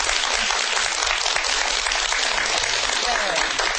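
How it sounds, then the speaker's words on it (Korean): An audience claps in a sustained, dense burst of applause that holds at an even level throughout. "다시 한번 큰 박수 부탁드릴게요."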